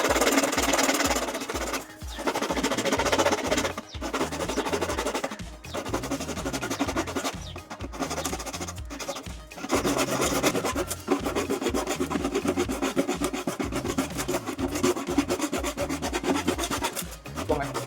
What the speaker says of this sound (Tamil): அந்த மெஷர் பண்ண வந்த அளவுக்கு நீங்க வந்து இதை வந்து கட் பண்ணிக்கோங்க